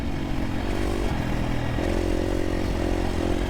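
A 2023 KTM 350 SXF dirt bike with a Vortex ECU revs hard and close, its engine note stepping up through several loud accelerating pulls with clattering mechanical noise throughout.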